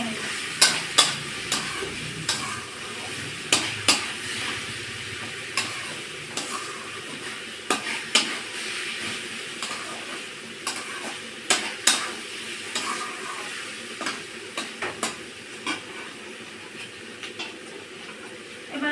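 Taro stolons and washed red lentils are stirred together in a frying pan, a steady sizzle carrying sharp, irregular spatula clicks and scrapes against the pan throughout, with no voices.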